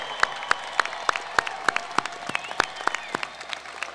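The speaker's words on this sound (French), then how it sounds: "On les applaudit très chaleureusement" Audience at a college graduation ceremony in Bathurst applauding graduates, sparse individual claps in a steady rhythmic pattern, fairly distinct hand strikes rather than a dense roar, moderately near.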